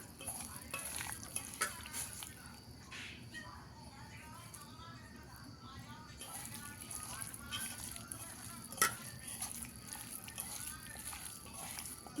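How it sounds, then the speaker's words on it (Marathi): Chicken 65 mixture being stirred in a pan, producing a soft continuous sizzle with scraping of a spoon and one sharp clink, close and moderately quiet, while a person talks over it. "थोडंसं मिक्स करून घेऊया ह्याला नंतर मीठ टाकूया मिक्स करून घ्यायचं आहे चांगलं"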